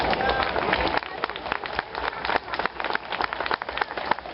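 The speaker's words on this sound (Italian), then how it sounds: "vi chiedo di accogliere con un grande applauso" An audience at an outdoor summer live-drawing and special-effects show in Novi Ligure, Italy, gives a dense, continuous round of applause. The clapping stays steady and moderately loud for about four seconds to welcome a performer.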